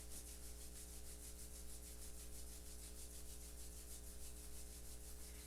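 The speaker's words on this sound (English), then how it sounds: "Let's rub the palms together at the center of the chest in front of the heart." Palms rub together briskly in front of the chest during a guided meditation, giving a steady, close, continuous swishing friction with no talking.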